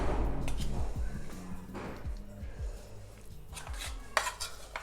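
Chicken pieces are mixed into a thin batter in a bowl, giving close wet squelches and repeated scrapes and clinks of a utensil against the bowl, continuous and fairly soft.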